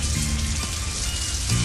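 Rain falls as a sound effect in a 1972 soul song, a dense, steady hiss of drops on a surface filling the short stretch at an even loudness, with low musical tones underneath.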